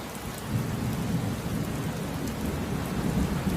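Steady rain with rumbling thunder from a thunderstorm, a continuous, even wash of rainfall with low thunder rolling underneath throughout, no voices.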